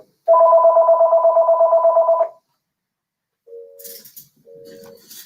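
A telephone rings in a steady burst of electronic trills for about two seconds, loud and close, followed after a pause by two short beeping tones and some faint handling noise.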